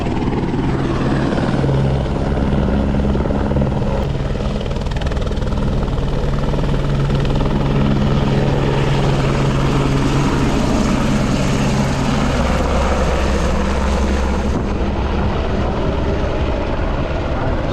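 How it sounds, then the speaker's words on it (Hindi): A helicopter's steady, loud rotor and engine drone at Kedarnath, continuous and close, with a constant low thumping hum throughout. "आपको एक और हेलीकॉप्टर दिखाते हैं"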